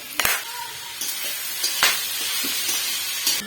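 Goat tripe cooking in a pan, a continuous bright hiss of frying with a few sharp clicks and stirring knocks, close by and without talking.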